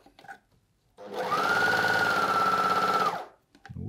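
Juki overlocker sewing machine stitching a rolled hem, a loud steady mechanical whirr running for about two seconds, starting and stopping abruptly with quiet moments on either side.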